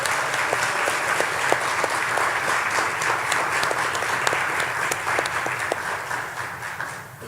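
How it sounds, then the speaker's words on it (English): A ceremony audience applauds steadily at a recognition event, the many hands clapping in a dense, continuous wash that holds at an even level and eases off slightly at the end. "Can we give them another applause, please?"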